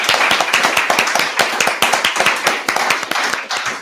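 An audience at a coding bootcamp graduation showcase claps steadily and loudly, with dense overlapping hand claps running for a few seconds without voices.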